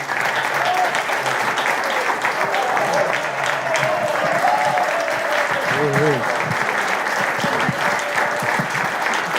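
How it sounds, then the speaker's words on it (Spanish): Loud, sustained audience applause for Juan José Gómez Centurión, a Malvinas War veteran, as a dense steady roar of clapping with a voice briefly rising through it. "Un fuerte aplauso para Juan José Gómez Centurión"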